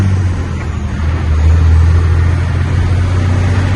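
A Sterling dump truck with a Caterpillar C12 diesel engine is heard from the cab on a test drive, a steady low engine rumble that swells slightly midway, with no talking.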